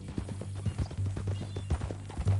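A horse in the video game Red Dead Redemption 2 walks with a rhythmic clip-clop of hooves close by over a low hum, the steps repeating steadily through the short stretch.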